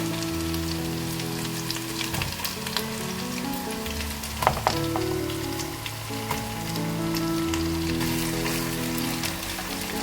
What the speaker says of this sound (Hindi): और जो हमारे कोफ्ते हैं इसको इनके साथ ही हम ऐड कर देंगे ताकि ये फ्राई होना शुरू हो जाएंगे उसके साथ ही